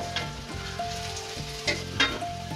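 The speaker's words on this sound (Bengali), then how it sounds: "আমি সেকেন্ড ব্যাচটা এবার ভেজে নেব।" Pumpkin pakoras fry in hot oil with a steady close sizzle and bubbling, with a few brief clinks and stirring bumps and no voices.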